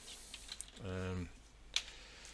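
Faint, sparse keystrokes of someone typing code on a computer keyboard, scattered soft clicks with one sharper tap, briefly interrupted by a short voiced sound.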